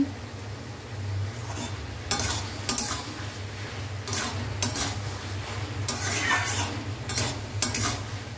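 Potatoes and spinach are sautéed in a pan with a low sizzle under a steady background hum, while a spoon or spatula scrapes and clinks against the pan in irregular bursts.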